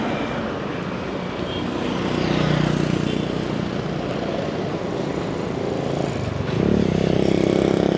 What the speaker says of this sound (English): A motorcycle full of bread.